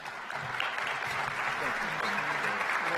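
Audience applause fills a room as NASA Administrator Bill Nelson is welcomed onstage at a NASA and DARPA rocket propulsion announcement, a steady, dense clapping sustained throughout at even loudness.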